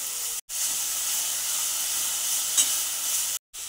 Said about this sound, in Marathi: आपण ढोबळी मिरची भाजून घेऊया 2 मिनिटं